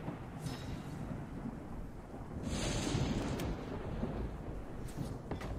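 A thunderstorm rolls through the video game ARK: Survival Evolved, a faint low rumble of thunder with steady rain hiss that swells midway and holds.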